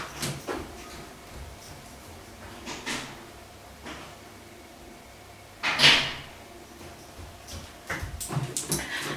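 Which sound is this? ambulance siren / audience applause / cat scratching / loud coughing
cat scratching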